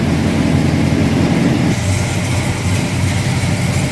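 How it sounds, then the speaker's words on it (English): The 396 V8 engine of a 1969 Chevrolet Chevelle SS tribute idles with a deep, steady rumble up close, loud and continuous, with the pitch shifting slightly partway through as it comes off high idle. "I also got it off the high idle so you can hear the rumble out of that 396"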